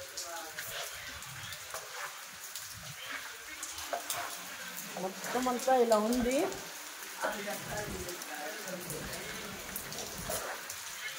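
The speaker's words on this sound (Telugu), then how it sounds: "సో వాన అయితే బాగానే పడుతుంది గైస్." Heavy summer rain falling with a continuous hiss and patter, fairly quiet, under a man's speech.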